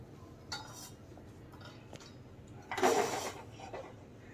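Freshly popped maize popcorn scooped out of a full pan into a serving vessel, with a few light metallic clinks and a louder clattering scrape midway, no talking.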